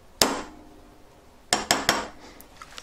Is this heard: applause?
no